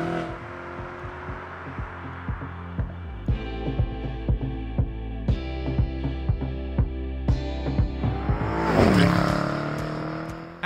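BMW M850i driving on country roads: a deep, throbbing V8-style drone heard from inside with regular thumping bumps, shifting through gears with rising revs and a louder surge of acceleration near the end, no talking.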